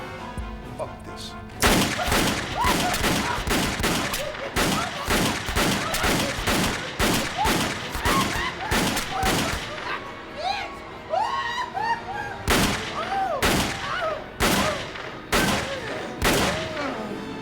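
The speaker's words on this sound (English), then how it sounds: "let's count Lorenzo's bullets" Rapid revolver shots in the horror film Killjoy, many more than six, fire as loud sharp cracks in a steady volley, pausing briefly midway before resuming, with shouting voices and film sound between the bursts.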